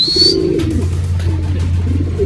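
Racing pigeons at a derby loft giving low, steady cooing close by, with a brief higher chirp at the start and no talk.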